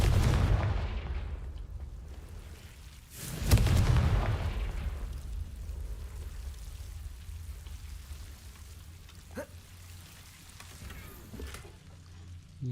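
Confringo blasting spell explosions in the video game Hogwarts Legacy: a deep rumbling blast at the start, then a second loud boom around the middle that trails off into a long low rumble, with a faint sharp crack later on.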